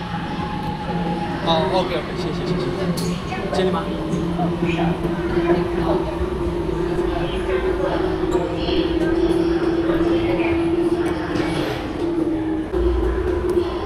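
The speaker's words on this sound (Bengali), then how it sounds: "এই মেট্রোর জন্য অপেক্ষা করতে হবে।" A metro train runs at a station in China on the Yiwu to Hangzhou route, a steady rumble and hum through the whole stretch under intermittent nearby talk in a busy platform space.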